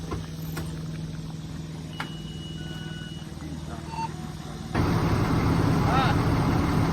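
A fire truck engine idles with a low, steady rumble, then steps up abruptly to a louder, fuller roar as it is put into pump, and a voice talks briefly over it.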